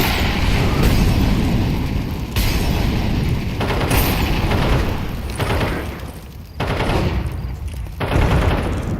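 Counter-Strike 2 grenade blast amid sustained competitive gunfire, several loud booming bursts and rattling shots overlapping in a dense, continuous battle mix with brief dips between impacts.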